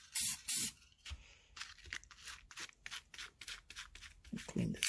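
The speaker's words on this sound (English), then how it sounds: "I'm going to add a little bit of clear coat right there on the edges." Clear coat sprayed from an aerosol can onto the edges of a canvas painting: bursts of loud, bright hiss in short and longer puffs, close by, with some quieter scraping between them.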